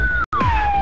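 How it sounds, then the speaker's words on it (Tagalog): A wailing emergency siren, likely a police car, sounds loud and close in the open, with a steady rising and falling tone that cuts out for a moment before resuming. "May sirena eh."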